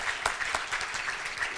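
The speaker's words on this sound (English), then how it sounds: "Let's applaud that." Audience applause at a Rotary Promise scholarship ceremony for high school students, a short burst of dense, even clapping close by with no talking.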